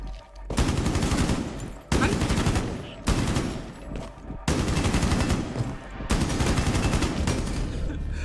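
Rapid bursts of automatic gunfire in Rainbow Six Siege, loud and close, coming in several long volleys separated by brief pauses across the whole stretch.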